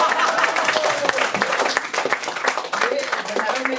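Audience applause and clapping at a live ghazal performance by a poetry band, a dense ripple of many hands under someone talking over it.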